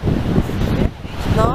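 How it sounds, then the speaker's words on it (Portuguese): Gullfoss waterfall on Iceland's Golden Circle on a freezing day, a steady low roar of falling water mixed with gusting wind buffeting the microphone, while people talk over it. "essa é Gullfoss. É a cachoeira mais famosa aqui do Golden Circle."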